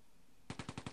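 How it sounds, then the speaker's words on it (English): Machine gun fire in the Close Combat video game: a rapid burst of about six evenly spaced shots beginning suddenly after quiet background hiss, close and punchy. "Under heavy fire."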